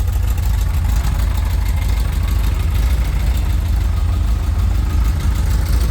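A VW T25 van's Bug Pack sports exhaust idles steadily throughout, a deep, throbbing low burble with a constant even rhythm, close and fairly loud, no voices.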